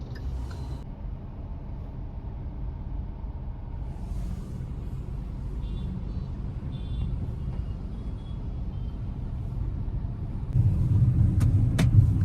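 A car idles in heavy Mumbai traffic with parking lights on, a steady low engine rumble filling the cabin, road noise around it, and a slightly louder surge of nearby traffic near the end.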